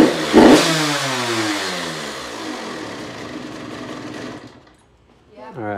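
A dirt bike engine revs hard with the throttle, a loud blip that climbs and then winds down into a fading whine, cuts out briefly and then picks up again in another short rev.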